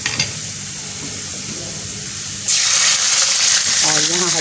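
Red chili powder hitting hot oil for a dal tempering, with a quiet lead-in and then a sudden loud, hissing sizzle that bursts up and continues steadily, with a brief voice near the end.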